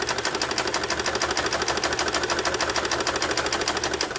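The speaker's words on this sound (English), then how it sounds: "And now I'm going to sew forward." A mechanical sewing machine stitches forward with a loud, fast, even needle rattle that runs without a break at close range.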